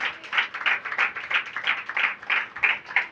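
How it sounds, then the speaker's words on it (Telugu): An audience applauds together at a Telugu church sermon by a pastor, a brisk, rhythmic burst of clapping at moderate loudness with no voices over it. "చప్పట్లు కొడదామా?"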